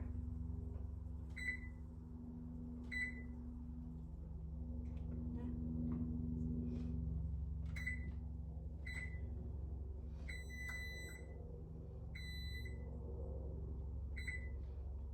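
Oven timer being set while roasting a turkey: a series of short electronic beeps from the keypad, close and repeated at irregular intervals over a steady low kitchen hum, with a little quiet talk.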